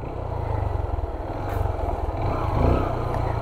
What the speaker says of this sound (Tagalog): Bumabalik yung motor